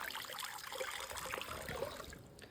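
Water drains out of a heavy-duty robotic pool cleaner in a faint, steady trickle and splash, fluctuating slightly and tapering toward the end.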